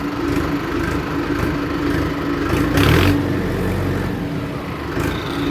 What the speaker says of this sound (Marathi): ट्रॅक्टरचा आवाज वगैरे बघतात ते पण आपल्याला नाही का चांगला भारी आवाज येतो.